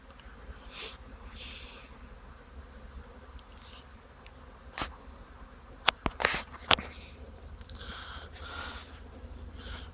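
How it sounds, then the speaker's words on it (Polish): Honeybees buzz in a soft, continuous hum around their hives, a steady swarm drone at moderate distance broken by a few sharp, close clicks and knocks midway. "Tu te pszczoły prezesa też ładnie się obleciały"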